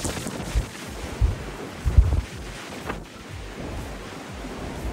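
Strong storm wind from the tail of a typhoon roars steadily against the microphone on a street, with sharp gusts and buffeting thumps and no talking.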